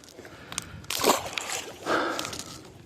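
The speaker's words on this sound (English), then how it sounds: "Did you hear that bite on the swim bait? He slurping on top?" A fish strikes a swimbait on the surface of the water, making a couple of short splashy slurps and sloshes, close and fairly quiet, the second one longer.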